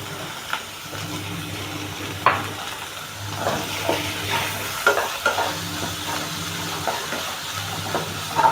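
Chopped onions frying in a pan for baingan tomato bharta, a steady close sizzle broken by occasional scraping knocks of a spoon stirring them.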